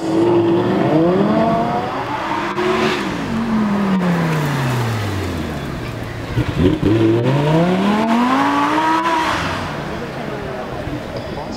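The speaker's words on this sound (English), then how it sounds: "Audi R8. Feel the wind in your hair with this one." A loud, close Audi R8 engine drives off and accelerates, its pitch climbing, falling away through a gear change, then climbing strongly again.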